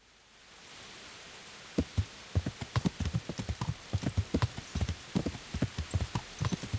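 Hooves of a horse in the video game Kingdom Come: Deliverance thud in a steady, even clip-clop rhythm that begins after a second or two of quiet ambience and continues to the end.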